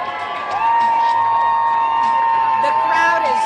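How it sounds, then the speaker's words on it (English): A crowd at the Gasparilla pirate invasion in Tampa, Florida, cheers steadily and loudly, with whoops and shouts continuing throughout and a raised tone running beneath the noise. "The crowd is cheering and applauding."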